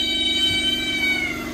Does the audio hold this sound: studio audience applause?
no